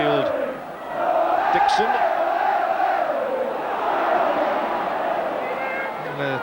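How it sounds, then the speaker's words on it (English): A rugby league crowd roars at a Leeds versus Featherstone match, a loud, sustained swell of massed voices that dips briefly and then surges again, while a commentator speaks over it. "you can sense it with the crowd as well. They're really roaring."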